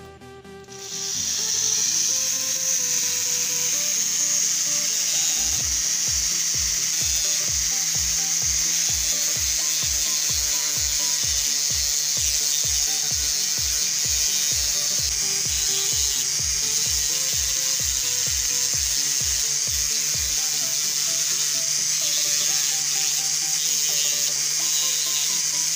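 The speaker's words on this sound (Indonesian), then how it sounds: "Kita lanjut lagi amplas bagian yang sudah diminyakin ini dengan amplas 600." Oiled wood carving of a face sanded with 600 grit sandpaper, a steady hissing rub with a run of regular rhythmic strokes in the middle, close and continuous, without talk.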